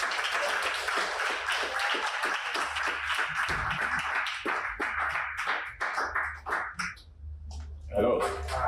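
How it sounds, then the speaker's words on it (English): Audience applause at a mentorship seminar: a dense, loud round of clapping that thins into scattered claps and then stops, with a voice beginning to speak at the very end. "Now with a round of applause."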